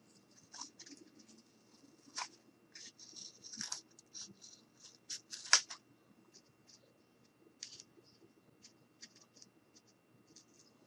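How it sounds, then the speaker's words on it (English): Scissors snip and scrape in short, quiet bursts, with irregular close cuts and rustling as edges are trimmed on a DIY fairy cottage, no talking. "So I'm just going to take my scissors and I'm just going to clean up my edges."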